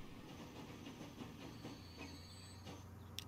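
Game train in Transport Fever rolling into a station, a steady rumble with wheel clatter and a low hum settling in, then a brief bright squeal near the end; no talking.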